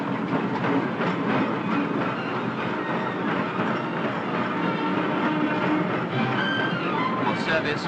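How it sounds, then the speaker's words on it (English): Electric suburban trains and long-distance steam trains at Waterloo, a busy 1944 London terminus, give a continuous loud rumble and clatter of rolling stock, with a narrating voice over the noise. "While electric trains serving the suburbs roll in and out of this station, long-distance steam trains are arriving from the west of England."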